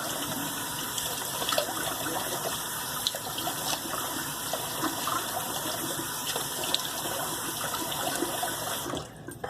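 Cold water from a tap pours steadily and loudly for a rinse, a continuous splashing gush that runs unbroken before cutting off near the end.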